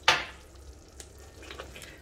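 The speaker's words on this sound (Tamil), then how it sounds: "நன்னா மிக்ஸ் பண்ணி விட்டுக்கலாம்." Garlic pickle with ground fenugreek and mustard powder simmers in a pan as it is stirred: a sharp scrape at the start, then a soft, steady sizzle and bubbling alone at close range.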